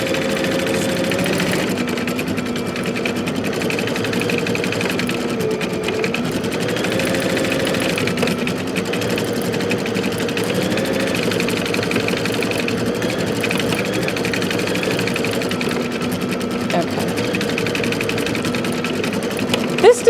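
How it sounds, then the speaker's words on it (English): An embroidery sewing machine stitches a design onto a dress, with a continuous, fast rhythmic mechanical whir and needle patter holding steady and fairly loud for twenty seconds. "we'll let this sew for a little bit"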